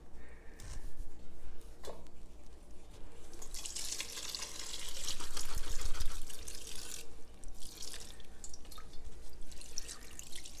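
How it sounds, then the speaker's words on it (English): Herbal tincture is poured into a broth bag over a pan and squeezed by hand, giving a continuous wet trickle and drip of liquid that swells in the middle and keeps splashing close by. "you pour your tincture into that and squeeze it."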